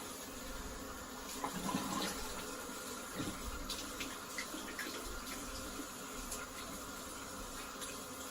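Steady running tap water pouring into a sink while a razor is rinsed under it, a faint continuous hiss with small splashy variations.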